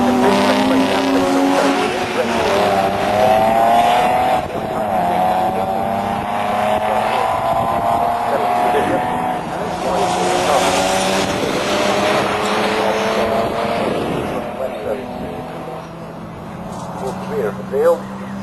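Jaguar XJS race cars in a championship race at Snetterton circuit, engines roaring loudly and continuously as the leaders pass through the S-bends, with rising and falling pitch as cars shift and sweep by, a commentator's voice running over the racket.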